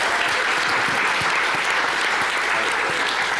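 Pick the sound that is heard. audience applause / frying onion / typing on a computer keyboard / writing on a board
audience applause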